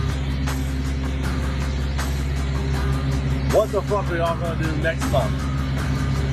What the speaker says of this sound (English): Reefer units, refrigerated trailers.